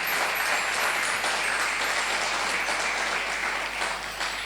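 Church congregation applauding loudly and steadily, a dense, continuous wash of many hands clapping throughout with no break.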